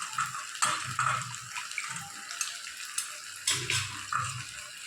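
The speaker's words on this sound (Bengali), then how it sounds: "এবার আমি জল দিয়ে দেবো।" Water poured into a pan of white chicken curry cooking in oil, a rushing, splashing pour mixed with bubbling and faint sizzle, close and moderately loud, no voices.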